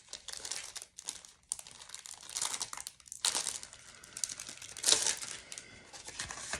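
Packaged paper journal inserts are handled up close, giving soft crinkling and rustling of plastic wrapping in irregular bursts, faint and with no talk.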